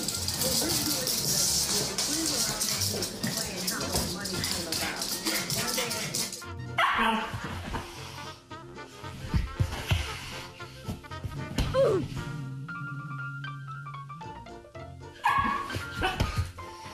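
A puppy barks and yips at a cat that tried to kiss it, sharp repeated woofs mixed with whimpers and rustling, with a voice talking over the first part.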